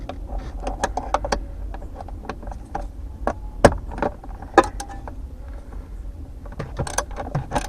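Loosening a bolt on a 1.8T engine while pulling it, a ratchet clicking in short irregular bursts with sharp metallic ticks and tool clatter close by, no talking.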